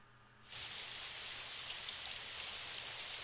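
Rain sound effect in a visual novel game begins abruptly after a brief quiet moment, then settles into a steady, even hiss of rainfall that stays moderately loud and unbroken.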